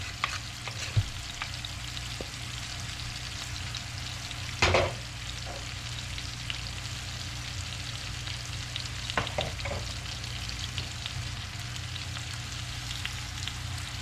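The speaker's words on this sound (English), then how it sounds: "Rubbing the last one around in the pan to get up all of the kibbles and bits off the bottom." Food rubbed around a frying pan scrapes up browned bits under a constant close sizzle, with a few louder scraping knocks standing out against the steady frying hiss.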